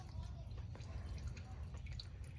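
Coolant drains out of the radiator of an 80 Series Land Cruiser during a cooling system flush, a steady faint trickle with soft drips running throughout, no voices.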